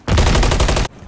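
Loud, rapid burst of automatic gunfire in the Call of Duty video game, a single sustained volley of close shots lasting under a second.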